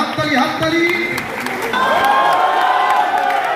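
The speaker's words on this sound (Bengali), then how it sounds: "হাততালি" Audience clapping and cheering at a film trailer launch event in a theatre, a loud sustained burst of applause with whoops, mixed with an announcer's voice and crowd noise.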